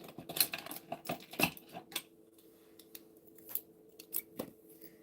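Scissors cut a piece of ephemera paper in half at a craft studio table: a few crisp, close snips in quick succession, then quieter handling sounds, with no talking.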